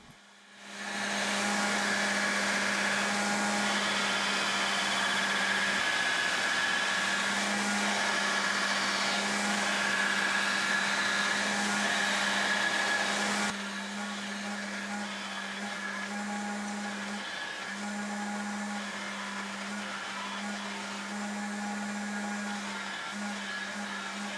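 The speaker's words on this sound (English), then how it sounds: "I'm using the table on my belt grinder to shape the outline of the blade" A belt grinder whines steadily as a titanium knife blade is shaped on its table, a loud continuous motor hum with belt hiss that drops to a softer, steady run partway through.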